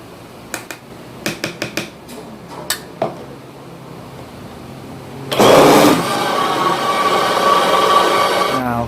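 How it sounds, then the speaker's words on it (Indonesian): A few sharp clicks and taps while a blender is readied, then the blender motor kicks in loudly and whirs steadily, blending egg whites into a juice, close and continuous to the end. "Kita blender dulu sebentar"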